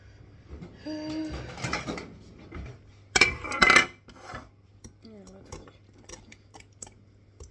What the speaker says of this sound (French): on va commencer à touiller